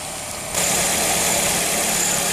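A 2014 Nissan Rogue's 2.5-liter dual overhead cam four-cylinder engine idles close by. The steady hum jumps in loudness after half a second and then holds even, with no talking.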